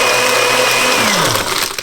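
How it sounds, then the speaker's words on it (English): A Nutribullet blender with a new blade lid crushes ice, a loud dense grinding whir close up for a couple of seconds, pitch sagging as the ice breaks down. "I can blend it up and see how it chops up that ice really good"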